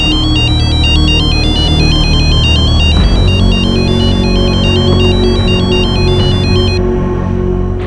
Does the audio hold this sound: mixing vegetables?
no